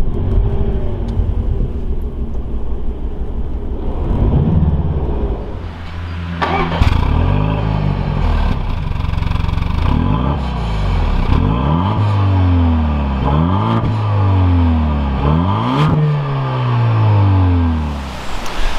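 A Jaguar F-Type with a 2.0-litre four-cylinder engine idles close up, then gets blipped through a series of sharp revs that climb and fall back repeatedly, loud and alone.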